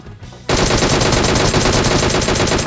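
Sustained automatic gunfire in PUBG Mobile erupts after a brief quiet moment, loud and close, a continuous rapid rattle that fills the rest of the moment with no talk over it.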